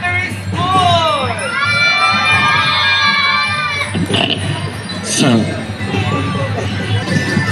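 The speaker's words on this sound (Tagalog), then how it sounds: "Wala ba sigaw at hiyawan mula sa Bulacan Elementary School?" Elementary school children shout and cheer at a district athletic meet, a loud, close crowd of high excited voices rising and falling, with a few sharp whoops standing out.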